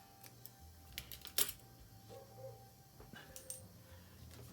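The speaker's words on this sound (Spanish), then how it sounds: "Vamos con unas tijeras a cortar el excedente de hilo." Scissors trim excess thread on a hand-sewn mini book, giving faint, scattered snipping clicks over a quiet room background with no talking.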